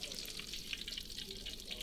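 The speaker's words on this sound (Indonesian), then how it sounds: "Ini kita goreng sampai kuning kecoklatan." Egg-coated perkedel frying in oil, giving a steady, dense crackle and sizzle that stays close and constant throughout with no talk.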